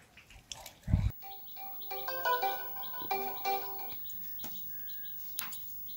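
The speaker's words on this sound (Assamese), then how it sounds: "তাৰ মাক ফোন লগাম এতিয়া" A mobile phone rings out while a call is being dialled, a faint electronic tune of repeating tones lasting a couple of seconds after a sharp click, with no talk.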